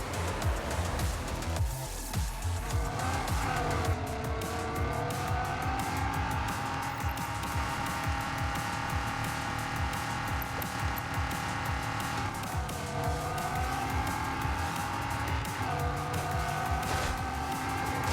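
Racing cars with screeching tires in the Mirage City video game: loud, continuous engine roar and sustained tire squeal over about eighteen seconds, with no talking.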